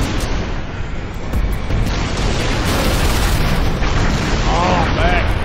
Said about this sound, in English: Blew up, huh?